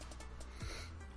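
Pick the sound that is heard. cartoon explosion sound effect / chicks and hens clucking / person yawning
person yawning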